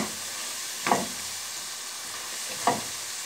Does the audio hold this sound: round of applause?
no